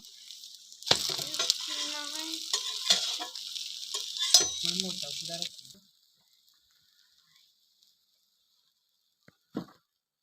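Wheat and jaggery pude cook on an iron griddle, giving a close sizzle with scraping and clinking for several seconds before it stops, followed by near silence and one brief knock.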